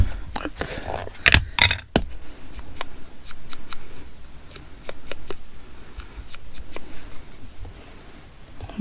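Scissors snip paper scraps for a junk journal, with sharp close clicks and crisp cuts scattered over soft rustling of paper and handling noise.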